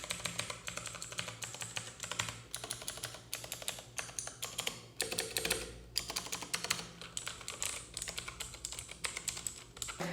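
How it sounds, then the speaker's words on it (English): Fast, steady clicking of a Gamdias Hermes E2 tenkeyless mechanical keyboard with clicky Outemu blue-style switches, typed close up in dense bursts with brief pauses and no talking. "They feel really close to Otemo switches, so I would guess these are Otemo blues"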